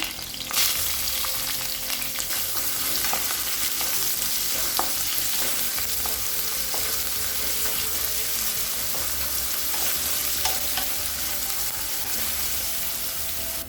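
Sliced onion sizzles steadily in hot oil with fennel seeds and curry leaves in a kadai while it is stirred for a Tamil cabbage masala poriyal, giving a loud, continuous frying hiss with occasional scraping and no talking.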